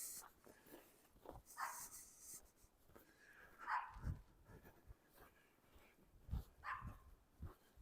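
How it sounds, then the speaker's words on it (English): Several sharp, high yapping barks from a small dog in a front yard in Regina in January, spaced irregularly and fairly distant, with quiet gaps between. "Sitting in the front yard barking."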